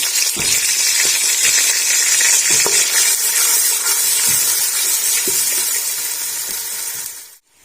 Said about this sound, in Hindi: अभी इसके अंदर हम डाल देंगे अदरक, लहसुन, प्याज का पेस्ट